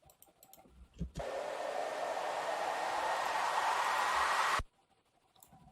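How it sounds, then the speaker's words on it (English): A broadband whooshing noise swells in abruptly, holds steady and loud for about three and a half seconds, then cuts off sharply, like a reversed cymbal layered with hiss. "It's made of the reverse cymbal and also some white noise."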